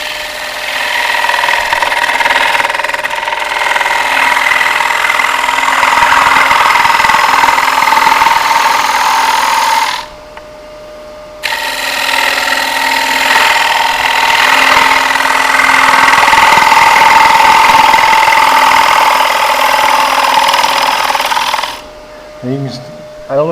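A woodturning gouge cuts a bowl on a lathe with a continuous loud rushing, whirring hum, broken by two short pauses, with faint clatter near the end.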